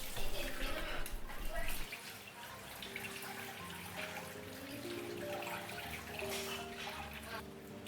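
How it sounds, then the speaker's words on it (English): Tap water runs and splashes while vegetables are rinsed for a vegan coleslaw, a steady gushing stream with shifting splashes and drips, fairly close, with a voice talking over part of it. "Then rinse the vegetables to remove all the excessive sugar."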